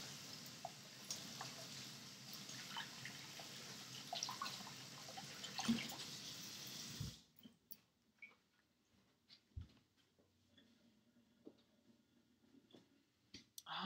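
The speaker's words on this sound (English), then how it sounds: "Sounds like a long time to wash your hands" Hands being washed under a running tap, a faint steady hiss of water with small splashes that stops abruptly midway, leaving near silence with a few soft clicks.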